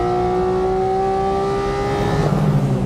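A Porsche GT4 RS carrying the GT3 engine revs hard, a loud close engine note with a steady high-pitched whine that shifts as the revs change near the end.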